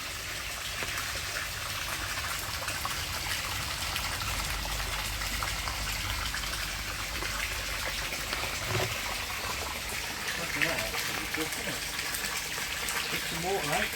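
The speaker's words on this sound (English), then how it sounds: "that's a proper sump pump" Water gushes and splashes steadily from a sump pump working at a koi pond, a continuous watery rush close by with voices talking over it.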